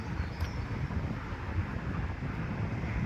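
Outdoor wind buffeting a microphone on a breezy day near a park outside a UK town centre, a steady low rumbling roar throughout with no clear breaks.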